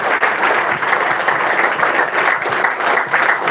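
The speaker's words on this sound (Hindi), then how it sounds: "जोरदार ताली बजा के परमेश्वर के दास का स्वागत कीजिए" Loud, sustained applause from a church congregation welcoming a preacher, a thick, even wash of clapping hands with no break across the few seconds.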